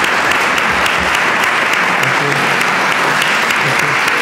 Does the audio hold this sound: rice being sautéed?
no